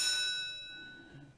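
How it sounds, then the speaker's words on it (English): A starting bell rings out at a greyhound race at Towcester, giving one bright metallic ding whose high ringing tone slowly fades, with quiet crowd and track murmur underneath. "There's your bell."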